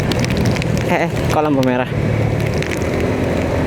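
Heavy storm rain and wind roar steadily around a motorbike rider touring from Bekasi through Ciawi, Bogor toward Citorek, a dense constant wash of noise with a voice speaking briefly over it.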